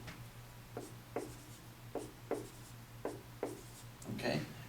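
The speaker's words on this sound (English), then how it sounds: "So I'm going to write down my base" Marker or chalk strokes on a board as a maths teacher writes out an exponent example, a series of short separate taps and scrapes about every half second, moderately close over a steady low hum.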